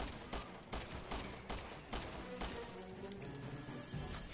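Submachine gun fire in a co-op zombie shooter, quick bursts of shots that come close but stay fairly quiet, with several crashing impacts in between.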